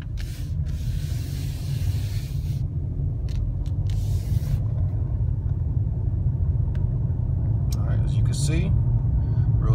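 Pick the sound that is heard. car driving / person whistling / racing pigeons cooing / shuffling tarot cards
car driving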